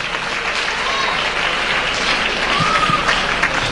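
Audience applauding at a church gathering, a steady, loud, continuous wash of clapping with a faint crowd murmur underneath, unbroken throughout.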